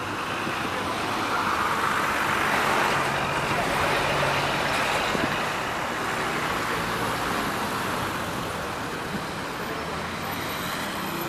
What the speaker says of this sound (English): This is the traffic. This is how it looks like.